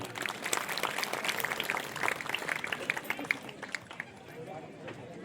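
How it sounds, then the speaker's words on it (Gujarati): Dense, steady applause from an audience at an Ahir Education Samiti honouring ceremony in Rajula, many hands clapping together for about four seconds before thinning out toward the end. "એમના માટે સૌ એક વખત તાળીઓ પાડીએ"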